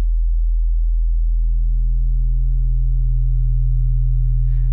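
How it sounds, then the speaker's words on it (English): Serum synth sub bass: a steady, loud low sine tone with an added third harmonic, sustained alone for nearly five seconds without talk. "So this is the third harmonic of the root sine wave."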